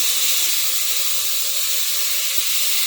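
Brinjal and cowpeas roasting in a pan give a steady, broad sizzling hiss that stays even and continuous throughout, with no talk over it.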